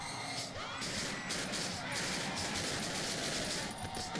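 Rapid, fairly quiet gunshots fired in quick succession in the video game Cry of Fear, sharp cracks in a steady stream against a rumbling background.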